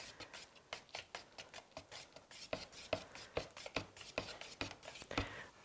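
A stick stirs thick absorbent ground paint in a container, making soft rhythmic scraping and sloshing strokes, close but quiet, about two strokes a second with no talking.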